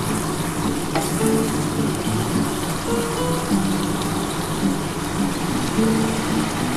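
Masala frying in a pan for a restaurant-style pabda fish curry: a steady, close sizzle with occasional stirring scrapes, and no talk.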